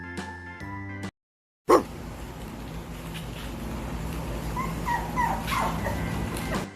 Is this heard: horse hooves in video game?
no